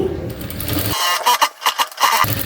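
A sewing machine runs a double stitch along a blouse, its needle chattering in short bursts separated by brief pauses, close and steady.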